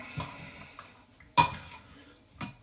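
A spoon clinks and scrapes against a bowl a few times while yogurt sauce is stirred, quiet and close, with no voices.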